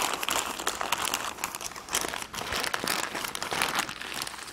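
Foil is folded tightly around a brisket, crinkling and crackling in close, irregular bursts of handling that continue throughout.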